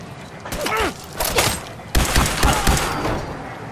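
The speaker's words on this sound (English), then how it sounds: "This is a good gun." Gunfire from a gun in Fallout 4, with dense bursts of rapid shots in two clusters, loud and close, with short pauses between volleys and some mechanical clanking.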